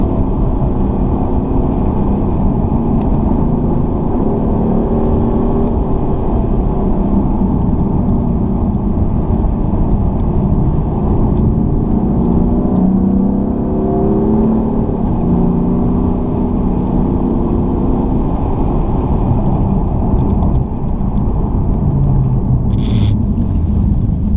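BMW M4 engine pulling through corners on dry, empty roads, a loud continuous low rumble that rises and falls steadily with gear changes and throttle, close and unbroken for the whole stretch with no talking.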